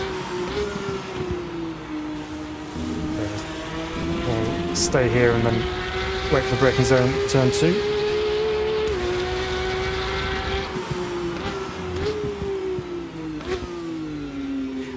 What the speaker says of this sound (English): from the external sounds you get a little bit more of that high frequency kind of screaming sound that you're familiar with the flat six engines